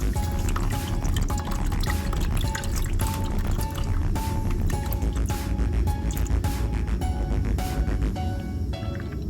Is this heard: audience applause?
no